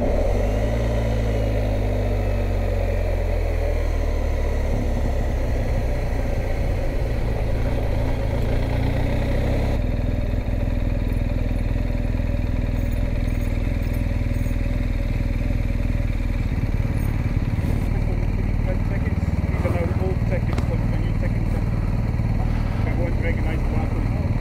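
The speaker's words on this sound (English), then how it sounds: "Where did all these cars come from?" Car engines running and idling at a ferry on the Isle of Islay, a loud, continuous low rumble that shifts slightly as vehicles move, with a faint voice briefly audible.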